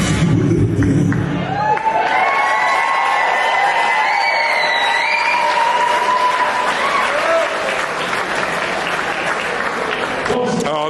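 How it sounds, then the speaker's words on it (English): Live concert crowd at Primal Live, Camp & Furnace, applauding and cheering loudly and steadily for nearly eleven seconds, with whoops and scattered shouts rising over dense clapping and voices. "The crowd are buzzing."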